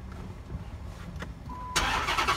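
A car at a dealership starts with a push-button ignition: a quiet cabin hush, then a sharp crank that catches into a steady, loud engine idle, heard from inside without talk.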